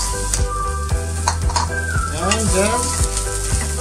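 Onion frying in oil on a tawa, with a steady sizzle under repeated sharp scraping strokes of a spatula and a brief metallic clink; a voice speaks briefly at the start.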